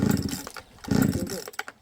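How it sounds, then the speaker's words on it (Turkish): A freshly sharpened chainsaw is tested in a village setting, revving in two loud bursts with a brief drop to idle between them and a sputtering tail at the end. "arkadaşlar testereyi biledik. Deneme yapacağız bakalım."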